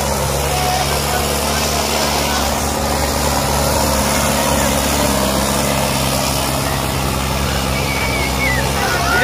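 A 120 hp tractor engine pulling two 34-disc harrows through a field, a loud continuous low diesel drone with steady rumble throughout, heard up close.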